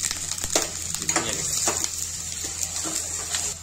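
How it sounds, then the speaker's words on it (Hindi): Garlic and onion drop into hot oil in a kadai, bringing a close, bursting sizzle with watery crackles and a few sharp spatters as the pieces settle, spoon noises mixed in. "अब ये लहसुन और प्याज इनको डालते हैं।"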